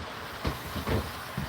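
An HO scale model train rolls along a Union Pacific Evanston Sub layout, a faint steady rumble with soft rhythmic clicks from the wheels over track joints.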